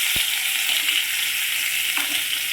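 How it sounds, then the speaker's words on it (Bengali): Chopped onions fry in hot oil with a steady, close bright sizzle, a brief knock of the utensil near the start and soft stirring later. "পেঁয়াজটা ভাজা হোক"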